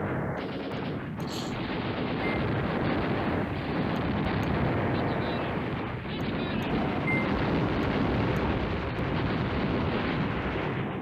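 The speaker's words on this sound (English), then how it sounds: "let's try this airstrike over here" Sustained barrage of explosions and gunfire-like blasts from an airstrike on a tank in the WWII strategy game Command Ops 2, set in the Iraklion historical campaign, loud, dense and continuous, with rumbling impacts and crackling throughout.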